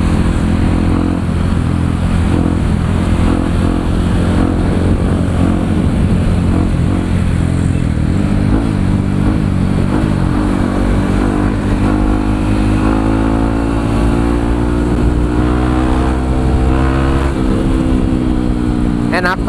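Modified Yamaha WR155R supermoto motorcycle on a test ride, the engine droning loudly and steadily with rising revs as it accelerates, heavy wind buffeting throughout and a rider talking over it.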